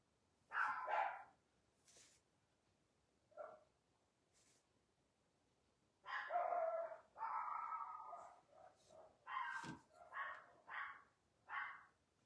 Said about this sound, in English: can y'all hear my dogs?